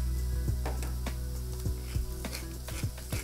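Aubergine and garlic cook in warmed olive oil in a nonstick pan, a steady low sizzle under repeated light scrapes and taps of a utensil against the pan, with no talking.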